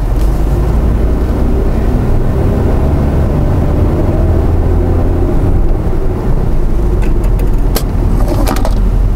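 Inside a Honda HR-V SE accelerating hard, a steady loud low rumble of road and tyre noise fills the cabin without pause, with a few brief higher clicks near the end.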